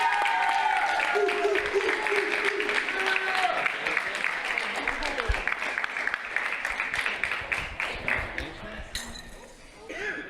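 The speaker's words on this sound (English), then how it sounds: "Huge round of applause for both teams and all middle school teams throughout the season." Crowd applause at a provincial Rocket League esports championship, greeting the middle school division winners; steady broadband clapping fills the whole stretch, with some clinks and fading toward the end, and talk faintly mixed in.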